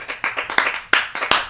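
A small group gives a brief round of hand clapping during an online giveaway, about ten sharp, uneven claps over a second and a half, close and fairly loud with no talking.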